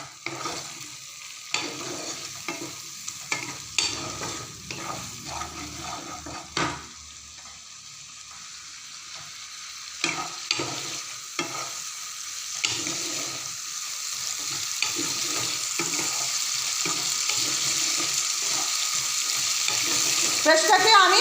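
Spice paste frying in a pan for a potato and tangra fish curry, a steady close sizzle broken by scraping stirs that grows louder and denser toward the end.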